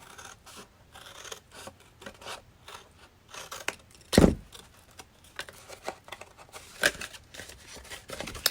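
Scissors cutting through a cardboard box up to a score line, a series of close snipping crunches with one louder, sharper cut midway and quieter rustling between strokes.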